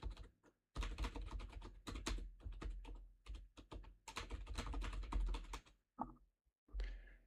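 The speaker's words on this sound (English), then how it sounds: "Listen to the keyboard." Computer keyboard typing in rapid bursts of close, crisp key clatter, with short pauses between runs over several seconds.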